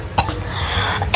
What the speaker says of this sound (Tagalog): Ako yung ubo